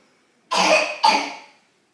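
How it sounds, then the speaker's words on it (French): A child coughs twice in close succession, two harsh, close bursts separated by a brief pause, with near silence before and after. "Là, c'est une toux quand même"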